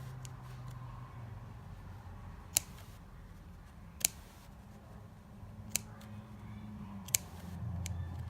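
Scissors snip the ends of fringes in four sharp, quiet cuts spaced about a second and a half apart over a soft low background hum.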